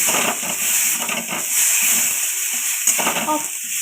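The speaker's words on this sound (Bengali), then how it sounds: "ভালো করে কষিয়ে নেব।" Turmeric powder, sugar and salt sizzle in hot oil for a pea kachori filling while a utensil scrapes and stirs the pan in short irregular strokes, close and fairly loud.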